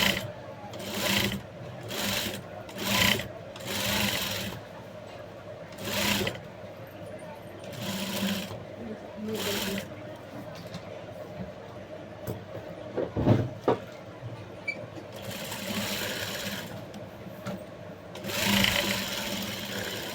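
A sewing machine stitches blouse fabric in short, repeated bursts of rattling needle action, with someone talking quietly between and over the runs.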